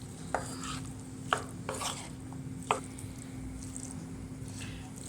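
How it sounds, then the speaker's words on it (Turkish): Fava beans being stirred in a pan with eggs, quiet wet squelches and scraping strokes at irregular intervals over a low background hum. "Karıştırıyoruz."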